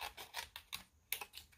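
Small 4-inch precision fussy-cutting scissors snip through paper in quick, close, crisp clicks, several cuts in a row without talk.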